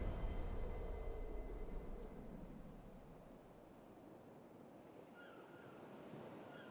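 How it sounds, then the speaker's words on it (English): Ocean waves surge and roll in the Kingdom Hearts video game as a storm builds, a broad steady wash of surf with wind noise, loud at first and easing slightly, with no talk over it. "The waves are getting steep."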